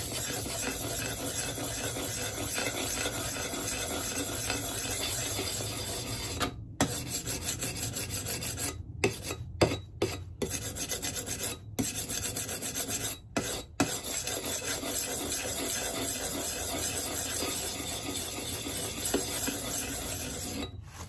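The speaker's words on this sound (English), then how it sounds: "This is 400 grit, by the way, which is about the minimum grit for a reprofiling stone." An axe blade rasps against a 400 grit reprofiling stone in long, continuous strokes with a few brief pauses, close up and steady, with no voices.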